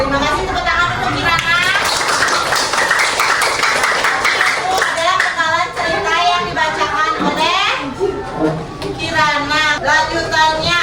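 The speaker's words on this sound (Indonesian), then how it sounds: "terima kasih tepuk tangan" Children clap and chatter together in a classroom, a lively, steady mix of applause and young voices lasting throughout, with kids talking over the clapping.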